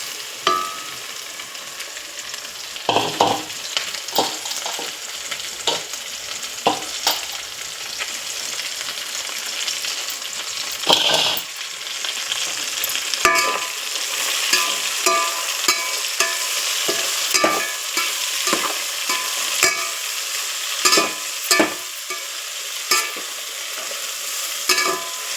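Gongura leaves being stirred and fried in a pan for pulao: a constant sizzle under repeated scraping, clattering strokes of a utensil against the pan, close and fairly loud, with no talk.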